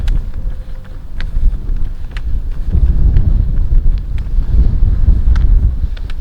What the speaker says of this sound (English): But that headwind, man